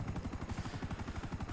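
A helicopter in a roleplay video game, its rotor chopping in a fast, regular thump that pulses steadily, loud and close, with no talk over it.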